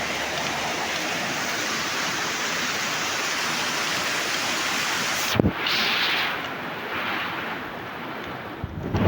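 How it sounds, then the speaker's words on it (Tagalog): Heavy rain pours down steadily in a loud, dense broadband roar, briefly interrupted near the middle, with no voices over it. "yung lakas ng ulan dito"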